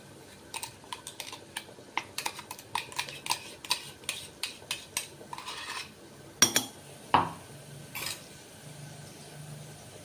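Tomato puree going into golden-brown onions in a pan, with a metal spoon tapping and scraping in quick, light, irregular clicks, then a few louder clinks against the pan near the end.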